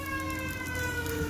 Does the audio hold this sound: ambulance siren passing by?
yes